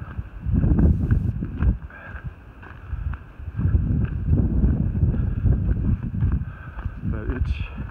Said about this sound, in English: This incessant wind, the relentless wind that I've had since Daleville, pretty much relentless.